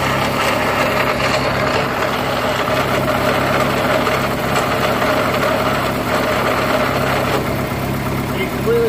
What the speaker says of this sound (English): That tranny sounds terrible.